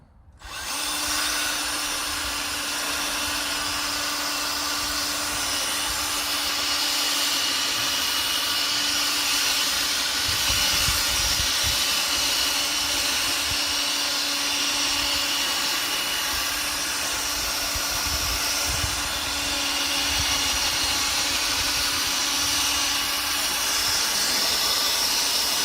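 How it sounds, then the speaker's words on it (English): Small polishing machine buffing a dull, yellowed car headlight, a steady continuous whine and hiss that runs unbroken at an even level throughout. "I went over it twice with that little polishing hood"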